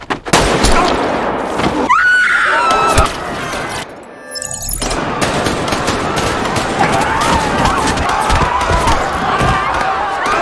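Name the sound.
gunshots firing at running players in Squid Game film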